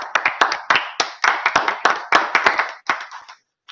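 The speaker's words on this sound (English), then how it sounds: "I'm going to stand and applaud you right now." A small group at a village council meeting claps for a retiring staff member, a loose, close run of crisp individual claps that thins out and stops near the end.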